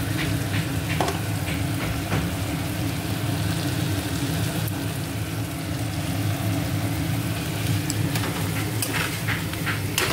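Ginger and tomato fry in a pan with a steady, close sizzle and occasional crackles and stirring scrapes, continuous throughout with no talking.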